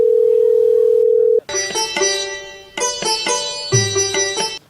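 A steady landline dial tone hums alone for over a second, then cuts off and gives way to a rapid run of bright electronic keypad tones as a number is dialed on the telephone.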